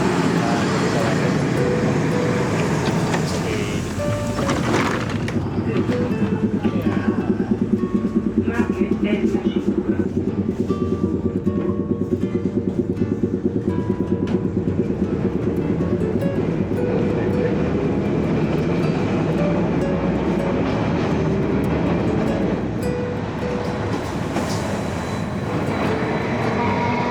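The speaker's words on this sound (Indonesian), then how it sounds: "Ya, datang tramnya, tram nomor 5." A number 5 tram pulling into a stop in Milan, outside the central station, with a steady rumble and rattle of rail cars rolling close by, loud throughout and joined by street traffic and voices.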